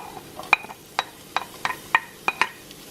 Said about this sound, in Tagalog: I am gonna add next our garlic